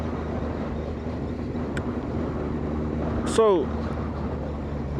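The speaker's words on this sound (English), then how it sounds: "today we're riding into Birmingham" A motorcycle riding into Birmingham, a steady engine drone with constant wind buffeting the microphone throughout and a brief whooshing sweep near the end, while a rider talks over it.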